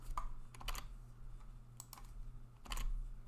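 Short bursts of keystrokes on a computer keyboard as a search phrase is typed, quiet and close over a steady low electrical hum, with pauses between clusters of taps.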